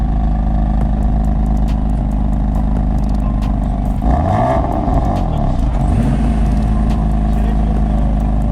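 Chevrolet Corvette Grand Sport at a car meet, a loud, steady low engine rumble at idle with a brief rise in revs partway through, close by.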